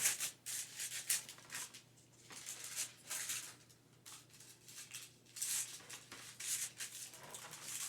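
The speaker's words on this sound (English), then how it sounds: "I'm going to use my spatula to start kind of spreading everything out" Spatula spreading plant-based granola bar mixture across a pan, soft irregular scraping and rubbing strokes in bursts with short pauses, faint and close.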